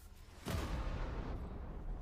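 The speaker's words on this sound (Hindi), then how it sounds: "गिरते ही विस्फोट से निकली ऊर्जा आज के 10 करोड़ परमाणु बम के बराबर थी" Asteroid impact explosion sound effect in a documentary about the end of the dinosaurs: a sudden deep boom after a quiet half second, then a sustained rumbling roar that slowly fades.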